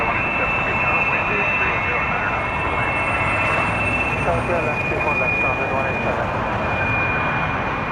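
Jet engines roar from aircraft at Toronto Pearson airport, a loud, steady rumble with a continuous high whine that holds for the whole stretch.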